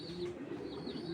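Grizzle pigeons at a breeding loft cooing softly, a low throaty murmur that rises and falls continuously against a faint background hum.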